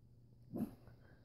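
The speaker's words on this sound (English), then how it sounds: "How the heck did you just bark?" A single short, soft bark from a pet dog, one quick muffled burst against a quiet, low hum.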